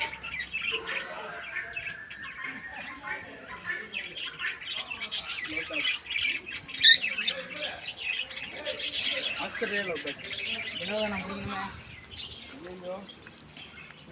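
Australian lovebirds at a resort chatter and squawk continuously, a busy flock of shrill chirps and calls, close and lively, with people talking over them.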